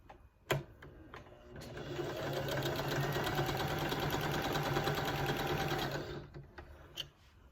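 A sewing machine runs steadily for about four seconds, stitching the long sides of quilt square pieces and small triangle pieces together, with soft handling clicks before and after.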